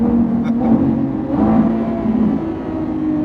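Lamborghini V12 with a fully open, straight-through exhaust, heard as a loud, steady, deep engine drone with a brief rising rev partway through, close and continuous.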